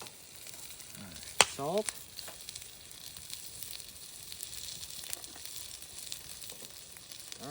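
Diced potatoes fry in avocado oil in a pan over a campfire, giving a steady close sizzle with light stirring and scraping, while a voice speaks briefly once.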